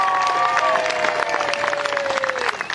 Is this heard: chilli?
no